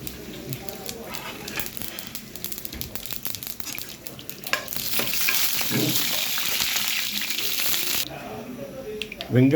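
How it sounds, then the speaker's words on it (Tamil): Mustard seeds, dried chillies and onion frying in hot oil for a bean and potato stir-fry, with a dense crackling sizzle and rapid popping taps that swell louder midway, then ease off near the end, with a voice over it. "எண்ணெய் நல்லா காஞ்சிட்டு இப்போ கடுகு வத்தல் சேர்த்துருக்காங்க வெங்காயம்"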